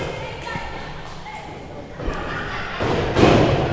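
Wrestling strikes in a match: forearm blows and a low drop kick thud against a body and the ring mat, with several dull impacts, the heaviest near the end, under a busy crowd and commentary.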